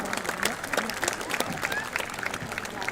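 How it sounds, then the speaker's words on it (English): An audience claps at an Indian school's annual day celebration in Qatar, a continuous, moderately distant round of applause with crowd murmur and a voice partly audible underneath. "Audience, please give them a huge round of applause."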